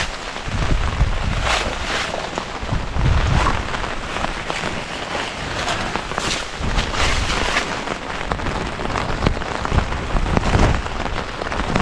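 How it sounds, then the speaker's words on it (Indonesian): Steady heavy rain pours down during a fishing trip, a dense continuous hiss of drops drumming on surfaces close by, with no voices. "Wah, hujan guys."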